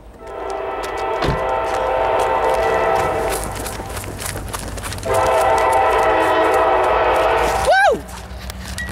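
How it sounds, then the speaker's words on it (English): CSX SD40-3 locomotives rumble past with steady rail clatter, sounding a loud sustained horn blast and a brief sliding horn note near the end, with a person's voice over the noise. "Train, train, train."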